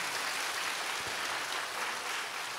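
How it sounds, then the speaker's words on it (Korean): A crowd at a Korean prayer-retreat revival meeting claps in a dense, steady wash of applause from start to finish, with no talk. "박수 한번 해줘요"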